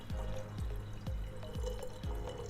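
Water pours into an Ovente electric glass kettle, a liter filling it in a series of gurgling, glugging pulses about every half second, close and fairly quiet.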